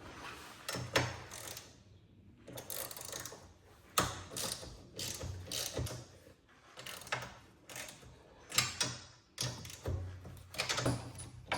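A ratchet fitted with a 16mm socket works loose the front axle bolts on a 2000 EZ Go TXT golf cart, giving close, loud bursts of rapid clicking in an uneven rhythm, with short pauses between strokes and no voices.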